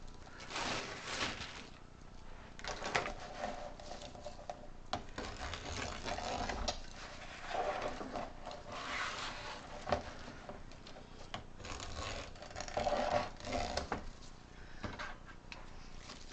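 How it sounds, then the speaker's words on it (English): A floral pick machine attaches picks for a lemon grapevine wreath made with deco mesh and flowers. It gives a steady mechanical rattle and whir, with bursts and short pauses, close by and without talk. "So you can put this in the pick machine."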